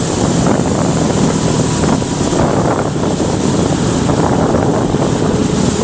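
A BSA Gold Star motorcycle accelerates hard, its engine roar a steady loud wash heavily buffeted by wind noise, with no talking.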